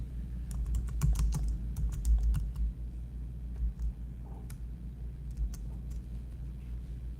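Fingers type a file name on a computer keyboard in quick, irregular bursts of close, crisp key clicks, then slow to scattered single taps over a steady low hum.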